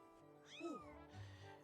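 A cat meows once in the video game Skyward Sword, a clear, rising-then-falling mew set over soft, steady background game music.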